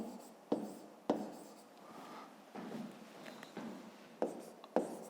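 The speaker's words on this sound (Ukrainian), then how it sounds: "Ну і записуємо, які це можуть бути числа." Numbers are handwritten with a pen on paper, close and quiet: short scratchy strokes in bursts with a few sharper taps as the pen touches down, separated by brief pauses.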